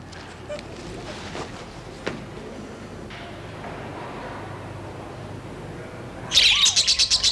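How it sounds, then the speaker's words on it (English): Muffled background noise, then at the end a burst of loud, rapid high chirping from budgerigars, close and busy. "Can't you shut those bloody parrots up? They are budgerigars."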